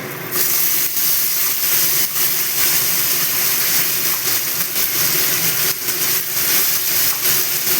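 A ground paste of tomato, cashew, charmagaz seeds, ginger and green chilli goes into a hot pan for a vegetarian aloo dum and sizzles with a loud, steady hiss that holds for the whole stretch.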